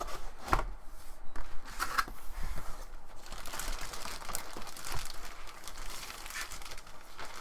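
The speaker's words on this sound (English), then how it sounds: "let's pull this out of the box and have a closer look at this keyboard" Packaging rustles and crinkles as a Chicony PC gaming keyboard with a built-in joystick is pulled from its box, with scattered close crackles, taps and handling thumps throughout and no talking.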